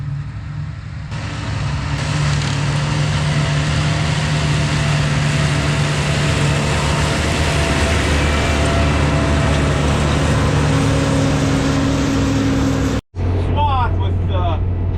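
A new self-propelled swather mower cuts wet hay in a field, its engine a loud, steady drone with a constant low rumble throughout, briefly cutting out near the end before resuming.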